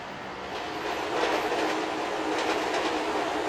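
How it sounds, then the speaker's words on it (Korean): A Miami Metromover rubber-wheeled people-mover train passes on the track nearby, swelling from a rumble into a loud rolling rush with rhythmic clatter and faint squeal, holding steady to the end. "바로 아래 선로로 바퀴 달린 기차 메트로 무버가 지나갔는데"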